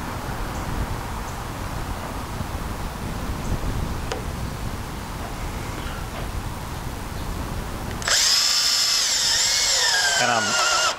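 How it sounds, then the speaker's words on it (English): A power drill pre-drills screw holes in wood for building cornhole boards, a loud steady whirring burst starting near the end after a stretch of low rumbling workshop noise and handling. "I'm going to pre-drill my holes for my screws"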